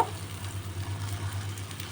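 Prawns and spices fry in a pan with a steady, close sizzle and a constant low hum running underneath, no voices.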